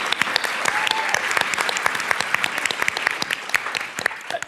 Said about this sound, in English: I'll give her a round of applause.